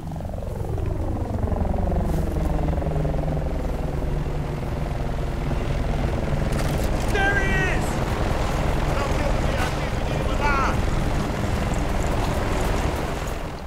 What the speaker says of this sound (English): that chopper's gotta be for him.